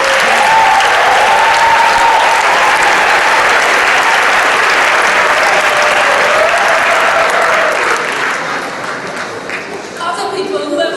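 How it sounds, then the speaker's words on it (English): A large audience at a 2015 closing ceremony applauds in a dense, loud, sustained wash of clapping that carries on for several seconds, then thins and tapers off near the end. "join me in giving them a round of applause"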